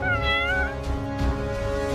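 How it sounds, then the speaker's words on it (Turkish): A cat meows several times in quick succession, close and fairly loud, its rising and falling cries standing out over a steady tonal background in a home setting. "Bu da ne? Bir kedi."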